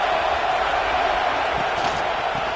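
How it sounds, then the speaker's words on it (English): A football stadium crowd roaring steadily as the offense lines up, a dense, loud and continuous wall of noise with no distinct breaks. "This crowd trying to make life miserable for this offense."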